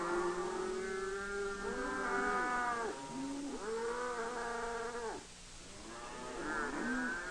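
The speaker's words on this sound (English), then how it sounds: "the cattle are driven into a corral to await their turn at loading onto a river barge" Several cattle low in long, overlapping moos in a corral, one call drawn out after another over a steady background hum, with no gaps of silence.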